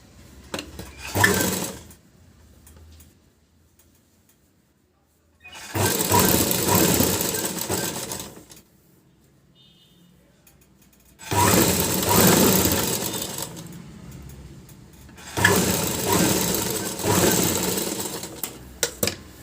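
A sewing machine stitches a blouse in four bursts of fast, rhythmic whirring, each a few seconds long, with quiet gaps and faint handling sounds between them.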